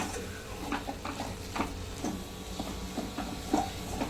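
Besan is stirred into sautéed onion greens in a pan while making zunka, with a run of irregular scraping and clacking stir strokes over a low sizzle, close and moderately quiet.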